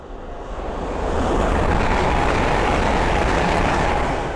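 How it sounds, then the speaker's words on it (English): A Hull Trains Class 800 bound from London King's Cross to Lincoln Central passes at Sandy on the East Coast Main Line, with a broad roar that swells over the first second and a half and then holds loud and steady. "the next train to pass by is a Hull train 800 from London King's Cross to Lincoln Central"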